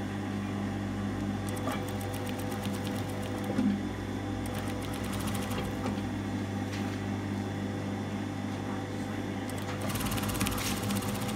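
A sewing machine stitches a tunic yoke in a steady, continuous run, with a constant motor hum and faint bursts of rapid needle clatter rising and falling across the clip.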